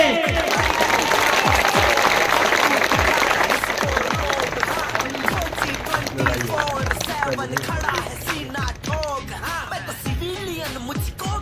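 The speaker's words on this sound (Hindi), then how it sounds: "एक बार पूरा पंडाल तालियों के साथ गूंजना चाहिए।" A large crowd at a mega rally in Jammu and Kashmir applauds, with dense continuous clapping and cheering, and voices mixed throughout.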